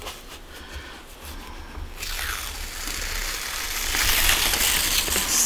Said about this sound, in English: See if I can get this tape up.